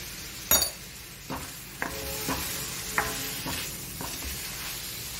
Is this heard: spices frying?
yes